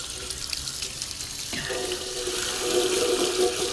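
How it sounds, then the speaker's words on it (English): Water from a hose sprays onto the tire of a 1985 GMC Sierra truck during cleaning, starting softly, then hitting harder partway through with a steady hiss and splash. "I like to get a little bit of water on the tire."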